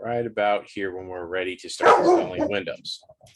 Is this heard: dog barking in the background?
yes